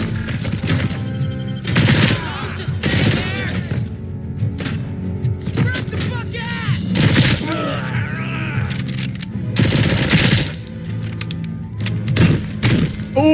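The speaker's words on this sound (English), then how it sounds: "picking up incriminating evidence while people are shooting at me" Gunfire in the video game RoboCop: Rogue City, bursts of shots and heavy thuds recurring throughout a busy combat mix, with a voice heard between them.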